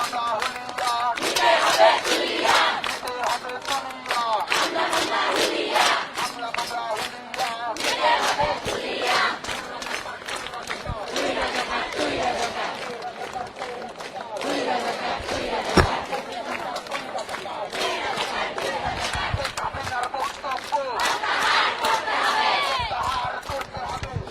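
Students at a night protest at Dhaka University chant slogans in a loud, rhythmic crowd, voices rising in repeated call-and-response bursts with sharp claps or beats, a reporter talking over the din.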